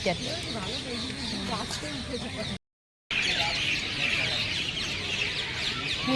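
Birds chirp and call near a temple, bright twittering sounds heard over a steady outdoor hum, with a brief silent gap midway and no voices.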